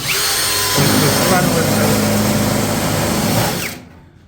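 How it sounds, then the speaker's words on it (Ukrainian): Power tool work on a sheet-metal exhaust duct box in a garage, driving rivets to join it together; a steady loud drill-like whine runs continuously for several seconds, then cuts off near the end. "монтуємо короб на закльопки"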